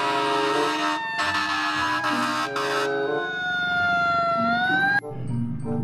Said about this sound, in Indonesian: Wah, yang ini ada mobil pemadam kebakaran